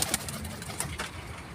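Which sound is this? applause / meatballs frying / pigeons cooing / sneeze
pigeons cooing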